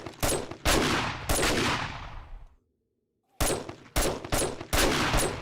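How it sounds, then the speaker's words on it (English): Bursts of rapid gunfire at a mini boss in 7 Days to Die, loud close volleys in several bursts, a brief silent gap, then more quick rattling shots. "You might want to start shooting him."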